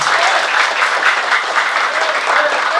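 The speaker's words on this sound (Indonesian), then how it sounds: "tepuk tangan buat dia" An audience at a youth motivation event in a Bandung mosque claps enthusiastically, a dense, continuous burst of applause filling the room from start to finish.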